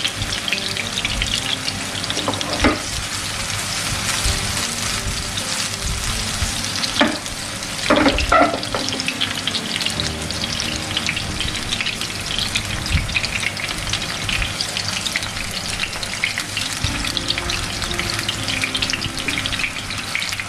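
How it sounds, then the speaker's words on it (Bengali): Chapli kabab frying slowly in oil over a low flame, a steady continuous sizzle with occasional louder pops and crackles, close and without any talking. "খুব আস্তে আস্তে ধীরে ধীরে এটা ফ্রাই করতে হবে"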